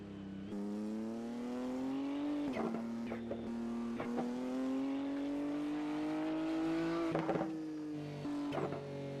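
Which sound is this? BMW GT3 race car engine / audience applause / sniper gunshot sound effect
BMW GT3 race car engine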